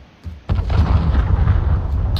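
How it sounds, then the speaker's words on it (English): A cruise missile explodes in a Call of Duty Modern Warfare hardcore team deathmatch: a small pop, then a loud, deep blast that rolls into a sustained rumble. "Enemy cruise missile incoming."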